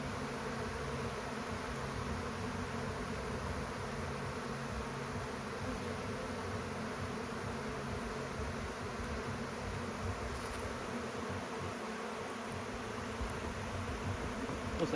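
Honey bees swarming around an open beehive with the honey super being worked, a dense, continuous buzzing drone of many insects close by, steady and fairly faint throughout with no speech.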